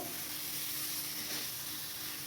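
Potato, egg and pointed gourd sizzling steadily in a pan while being stirred, a continuous bright frying hiss with no speech over it.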